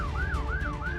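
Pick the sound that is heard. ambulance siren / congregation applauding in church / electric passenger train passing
ambulance siren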